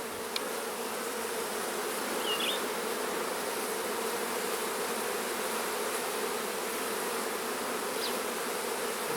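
Dense swarm of honeybees droning steadily around a large opened hive during a split, a constant close buzz filling the whole stretch with no talk.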